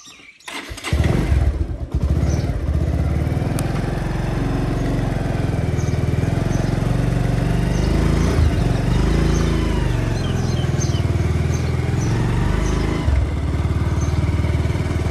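A motorcycle engine starts up and settles into a steady, loud, close idle-to-riding drone with mechanical clatter, continuous for the whole stretch with no talking.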